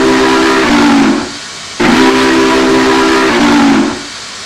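Two loud, long blasts of the Union Pacific 844 steam locomotive whistle in Train Simulator 2020, each a sustained hissing tone that shifts slightly in pitch before cutting off.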